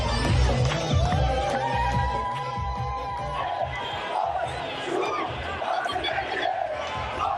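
Egyptian football fans abroad celebrate their team's long-awaited qualification, a dense crowd roaring and chanting continuously with loud shouts and babble throughout.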